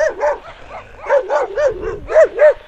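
Dogs in a snowy village bark and yip repeatedly in quick bursts, loud and close, with a few whimpering yelps and no voices over them.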